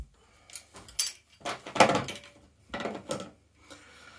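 A metal pin tapped back into a Double Bell BY-012 airsoft rifle, heard as several sharp knocks and clacks in uneven bursts, close and fairly loud, with no voices.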